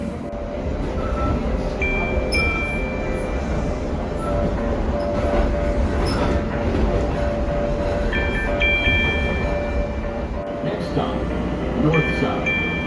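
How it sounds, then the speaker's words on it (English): A Pittsburgh subway train in motion gives a loud, steady rumble with rattling carriage noise, while several faint high tones and squeals from the wheels or track come and go over the continuous roar. "you either need to be seated or holding onto a handrail while the train is in motion"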